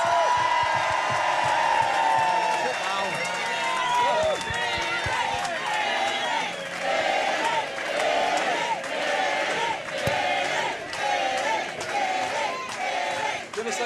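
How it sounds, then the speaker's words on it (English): A live show audience cheers, whoops and claps to welcome a rugby player, a loud, sustained roar of many voices that holds steady throughout. "Please give a huge, huge welcome to Billy 12 Trees"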